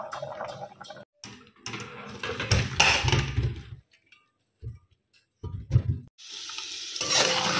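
Diced potato fries in ghee with cumin seeds, giving a soft sizzle broken up by stirring and scraping in the pan, with short quiet gaps between the bursts.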